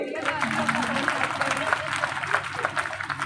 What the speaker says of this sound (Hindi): थोड़ा ताली बजा दीजिए